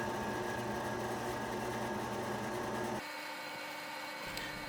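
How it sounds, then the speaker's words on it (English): A drill bores pilot holes for grommets in a warm Kydex knife sheath. A close buzzing motor whir runs steadily for about three seconds, then drops to a quieter, thinner hum. "we're going to go ahead and drill some pilot holes for some of our grommets"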